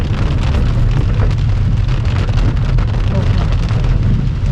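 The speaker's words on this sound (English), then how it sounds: "Oh my god, it's so raining." Heavy rain pounds a car during a driving lesson, a dense loud constant wash of drops on the vehicle, steady throughout with no break.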